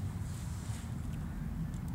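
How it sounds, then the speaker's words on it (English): Wind at about 9 to 10 miles per hour from the southeast blows across a football field during kicking practice, a steady low rumble of microphone buffeting with no other clear sounds. "I just want to let you know about the wind."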